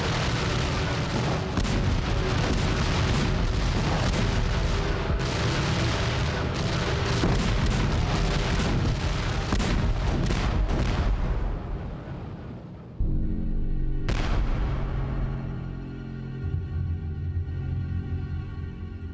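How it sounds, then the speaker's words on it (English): Prussian guns shelling Paris come through as a dense, continuous roll of heavy booms and rumbling blasts that fills the whole stretch, then breaks into a deeper, steadier drone near the end. "Over 4 months, Prussian artillery bombarded Paris."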